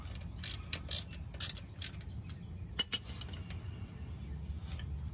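A ratchet working the gear oil drain plug on a Jeep Wrangler gives quiet clicking and creaking, with a few sharp clicks spaced out over a low steady background hum.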